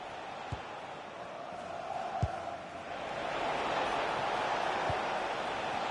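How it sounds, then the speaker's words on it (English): Simulated stadium crowd noise from an FC26 Championship match, Birmingham City against Watford: a steady broad roar that swells louder in the second half of the clip, with a few sharp thuds and no clear speech. "The crowd certainly think so. Just listen to that noise."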